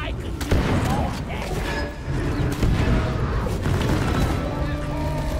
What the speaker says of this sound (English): Careful of the explosions.